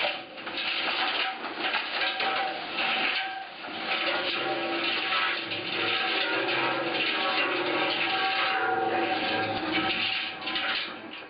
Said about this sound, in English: So we'll chuck it into the cement mixer just to break it up a bit. And turn that on for a little while.